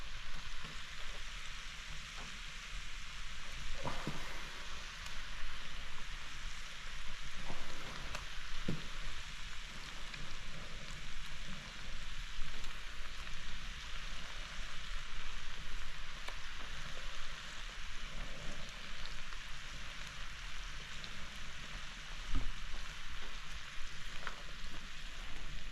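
Pieces of deer heart frying in hot butter on a stove, giving a steady, dense sizzle with small crackles and pops throughout, close and fairly loud, with no talking.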